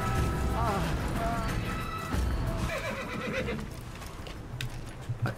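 A horse in the video game Assassin's Creed neighs loudly several times, with hooves clopping and some clattering and thumping behind it.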